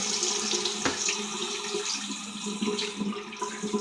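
Steady cold tap water splashing into a sink, close and continuous with slight gurgling variations.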